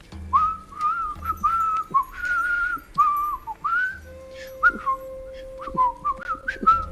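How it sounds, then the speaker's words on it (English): Someone whistles a run of short, wavering notes in a quick, tune-like rhythm, close by and fairly loud, with a faint low hum underneath. "he's gonna start like whistling"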